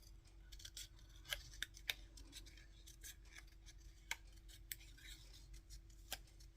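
Scissors snip a paper flower for cardmaking, giving about eight sharp, close, irregular cuts over a quiet room hum.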